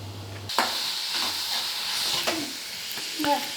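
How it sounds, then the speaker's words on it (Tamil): Grated radish for chutney sautéing in a pan, a soft sizzle with a few sharp scrapes of the spatula, fairly quiet and close. "இப்படி நல்லா வதக்கி எடுத்துக்கோங்க."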